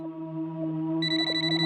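A phone ringtone plays, a sustained electronic tone that brightens into a higher, layered melody after a moment, close and moderately loud.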